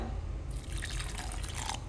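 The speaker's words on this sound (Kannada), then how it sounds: "ಈಗ ಸ್ವಲ್ಪ ನೀರು ಹಾಕ್ಕೊಳ್ಳುವ" Water poured into a mixer jar holding ground masala for Kundapura-style kori rotti: a close, steady splashing hiss of about a second and a half, with a low background hum and no voices.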